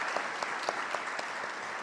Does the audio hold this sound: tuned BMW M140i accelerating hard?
no